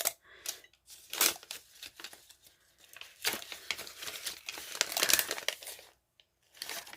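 Masking tape peeled off a mug after a Cricut Mug Press, a run of close crinkling, tearing strips and paper rustle in uneven bursts with short pauses.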